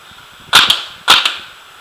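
Two sharp, loud shots from a PMR paintball marker fitted with a TechT bolt and a 13 ci tank, fired over a chronograph about half a second apart, each followed by a quick echoing snap.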